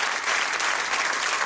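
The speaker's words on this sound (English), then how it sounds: "Give them a round of applause as they go off." Brief burst of studio audience applause on the Bullseye game show, dense steady clapping heard alone.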